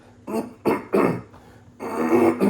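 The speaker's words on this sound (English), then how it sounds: "Clear my throat." A man clears his throat outdoors in a few short, gruff bursts separated by brief pauses, ending in a longer rasping clear, close and moderately loud.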